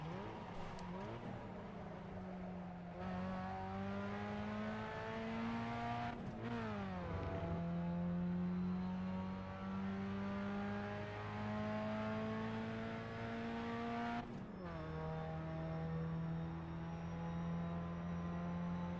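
A Pontiac Solstice engine drones steadily in the iRacing simulator, a loud buzzing tone that holds through each gear and drops sharply at two shifts, close and continuous with no talk.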